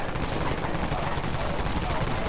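Wraith Cannon in the video game Dead Frontier fires continuously, a dense, loud, unbroken stream of rapid blasts filling the whole stretch.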